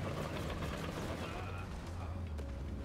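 Battle din in Company of Heroes 3 with UK forces against DAK, a steady wash of distant gunfire and machine-gun bursts with occasional sharper cracks, rumbling continuously at moderate level.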